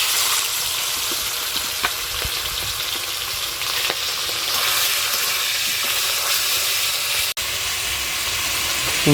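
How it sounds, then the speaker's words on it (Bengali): Chicken pieces fry in a pan for a cauliflower chicken dish, making a loud, continuous hiss and sizzle with a few soft clicks and a brief dropout near the end. "মাংসগুলো ওই একইভাবে ভেজে নেব"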